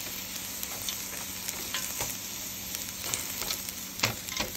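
Fried rice with vegetables sizzles in a pan, a steady crackling fry broken by scattered sharp ticks and the scrape of stirring, close and fairly quiet.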